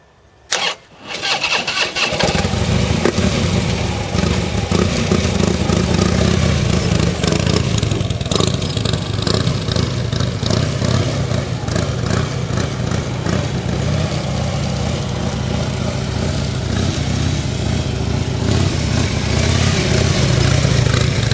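A motorcycle engine cranks and fires up after a brief quiet start, then runs steadily at low revs through slow, tight turns using the clutch and rear brake, loud and close with a continuous rumbling idle.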